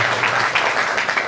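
Audience applause fills a hall at an event honouring football figures, loud dense clapping with no gaps throughout.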